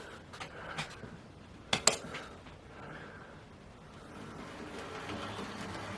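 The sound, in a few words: Hornby Lord Nelson Class model locomotive running on track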